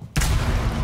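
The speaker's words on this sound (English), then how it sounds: "That was just the Excalibur's pistol." A pistol shot from the Excalibur in a ranked 1v5 shooter match: a sudden loud crack followed by a sustained, booming rumble that fills the rest of the moment, with no talking over it.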